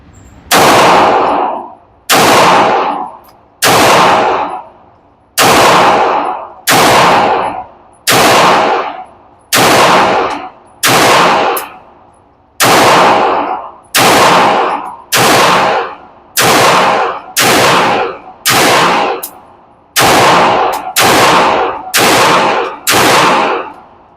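Pistol fire from a Fusion Firearm handgun at range targets: loud, sharp single shots spaced about a second apart, some in quick pairs, with no talking between them.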